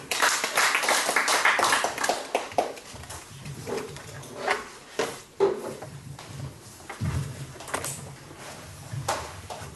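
Audience applause at the close of a church lay academy lecture, a burst of many clapping hands that fades into scattered, uneven claps and thuds, moderately close.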